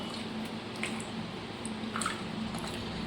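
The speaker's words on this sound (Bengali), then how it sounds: "এই জলে দিয়ে খুব ভালো করে এরকম কচলে কচলে কিন্তু জলটা পুরোটা বের করে নিতে হবে" Food being squeezed and kneaded by hand in a bowl of water to press the water out, giving soft, continuous wet squishing with small drips and splashes, close and steady without talk.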